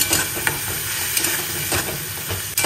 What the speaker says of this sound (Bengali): সামান্য একটু জল দেবো, দিয়ে এটাকে নাড়াবো। এটাকে একটু কষিয়ে নেব